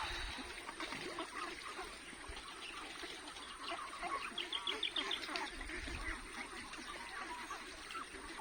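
Pet ducks bathing in a water tub splash and dabble, with soft quacking and bird calls over trickling water and occasional nearby human voices.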